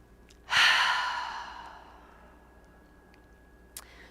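During a yoga breathing practice, one breath is released as a strong, airy exhale that fades slowly over a couple of seconds. The surroundings are otherwise quiet, and a faint click is heard near the end.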